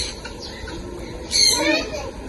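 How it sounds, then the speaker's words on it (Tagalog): Lovebirds at an ocean park aviary give brief, shrill chirps and calls that rise into a busier chattering burst midway, with voices and children faintly in the background. "Ito mga lovebirds."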